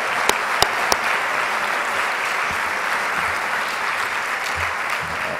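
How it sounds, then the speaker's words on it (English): Audience applauding at a live trick-shot pool exhibition, a steady sustained wash of clapping with a few sharp louder claps near the start, no talk over it. "Come on, let's hear it for Ava one more time here"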